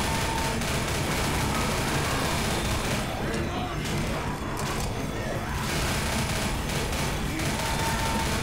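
Continuous loud gunfire in Left 4 Dead, a dense, steady barrage of shots filling the whole stretch with no pauses, with brief voices mixed in under the din.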